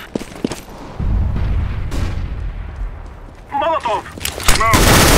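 A grenade explosion and gunfire ring out in the shooter game CS:GO on the Dust 2 map: a few sharp shots, then heavy booming blasts and a rolling rumble, with a short ricochet-like whine and more loud bursts near the end.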